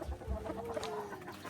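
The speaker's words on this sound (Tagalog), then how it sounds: "yung mga manok dito" Chickens cluck softly in a farmyard coop, a low steady murmur of fowl sounds with no talking.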